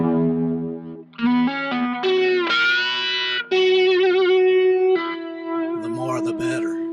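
Electric guitar run through delay and reverb effects, a series of sustained, distorted chords and notes with shimmering repeats and long echoing tails, loud and close.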